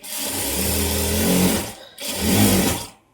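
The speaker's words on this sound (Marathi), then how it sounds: "माझ्या मशीनीला आहे ना दादांनी ना सर्व्हिसिंगच नाही केली, त्यामुळे असं घुर घुर घुर घुर वाजत राहते" An unserviced sewing machine runs with a rough, rumbling whir, a long continuous run, a brief stop, then a shorter second run, close and loud.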